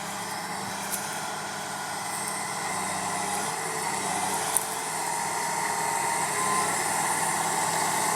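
A tractor engine pulls a Kverneland 6000T Qualadisc through a field and holds a steady, loud drone at working load, with faint clicks and rattles from the implement. No one talks.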